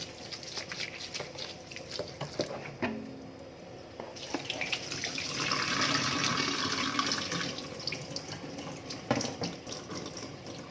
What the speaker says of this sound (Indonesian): Buang airnya sampai kering betul ini ya.